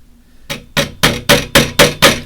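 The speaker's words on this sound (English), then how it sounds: "And I'm going to put in some nails now to secure it more" Hammer striking nails into a glued wall of a 1/6-scale Parisian loft diorama, six sharp, evenly spaced close blows in a steady rhythm, loud and clear with no talk.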